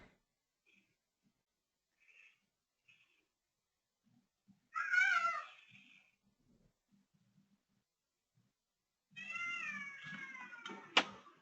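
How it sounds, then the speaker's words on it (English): A cat meows twice, faint and well apart, with a short meow around the middle and a longer, drawn-out meow near the end, separated by near silence and a few soft knocks. "I hear a cat."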